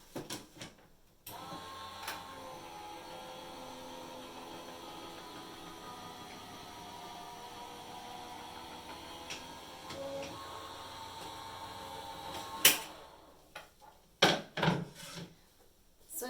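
A die-cutting machine rolls an embossing folder through, giving a steady mechanical whirring hum for about ten seconds, followed by clunks and handling knocks as the folder comes out.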